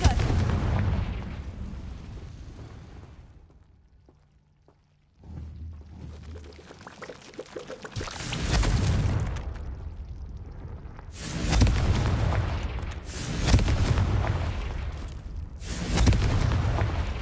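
Confringo spell explosions in Hogwarts Legacy, a series of loud booming blasts with rumbling, roaring tails, separated by a brief quiet lull, with no talking.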